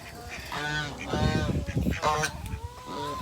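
Geese honk repeatedly near a chicken coop, loud nasal calls coming in quick overlapping bursts close by.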